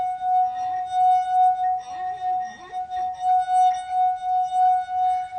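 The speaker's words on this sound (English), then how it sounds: "this is one of those well-known party tricks where you play the wine glass, and Tom's going to try it now" A wine glass sung by rubbing a finger around its rim, producing a sustained pure ringing tone that swells and pulses steadily, with soft talk and small noises faintly underneath.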